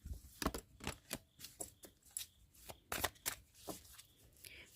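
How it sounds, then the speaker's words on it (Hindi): Tarot cards are shuffled by hand at close range in a quiet room, a series of soft crisp riffling bursts in an uneven rhythm, faint overall and with no voices. "Last shuffle."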